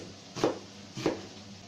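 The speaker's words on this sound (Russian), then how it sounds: "чтобы нарезать морковь, нужно, конечно, вооружиться хорошим ножом" A sharp knife cutting carrots into strips on a board at home: two crisp, separate chops about half a second apart, quiet and alone with no talk.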